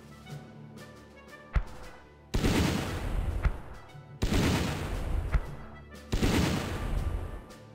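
Mortar fire in the Battle Academy war game: three heavy blasts, each a loud boom followed by a long rumbling, crackling tail, spaced about two seconds apart after a short sharp report.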